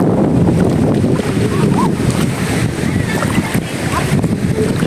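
A boat moves across water off Cagting, Ubay, Bohol, with a steady, loud rush of wind and splashing, churning noise throughout and no clear voices.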